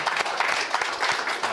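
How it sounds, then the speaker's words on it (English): An audience at a panel session claps in brief, steady applause, a dense, even patter of many hands with no voices. "If you can give them also applause,"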